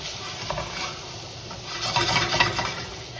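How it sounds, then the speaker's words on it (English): Spatula stirring chopped onion in a pan over low heat for home fries, a soft continuous scraping and shuffling with faint sizzle, louder strokes near the end, no talking. "Onion down. Mix it with the spatula."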